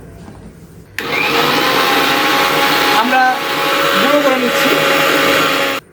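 An electric grinder whirs loudly and steadily as it pulverises dry-roasted rice for a homemade mrigal carp fishing bait, with a brief spoken word near the start of the motor noise.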